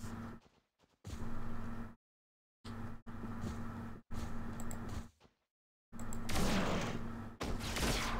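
Sentry turret firing in the video game Planet Explorers, dense rapid bursts of gunfire that stop and start, separated by short silent gaps, with the last burst louder and harsher, and no talking.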